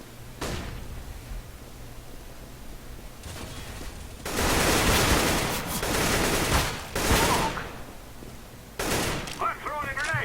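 Loud gunfire bursts and a flashbang blast in the game CS:GO. Rapid fusillades come in several heavy clusters with brief gaps between them, sharp and close. Game speech is faintly present.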